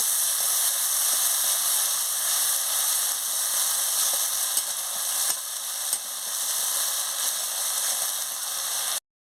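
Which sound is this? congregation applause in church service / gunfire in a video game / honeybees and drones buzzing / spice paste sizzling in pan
spice paste sizzling in pan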